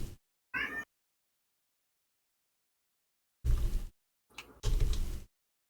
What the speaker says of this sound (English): I have to struggle not to meow back at your cat every time I hear it in the background